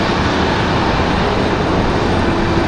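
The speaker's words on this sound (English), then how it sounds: "Looks like our next arrival is going to be a Velo 685 coming in from Rochester." Loud, steady jet roar of a Boeing 737-700 airliner arriving at Raleigh-Durham airport, a broad unbroken rumble filling the whole moment with no voices.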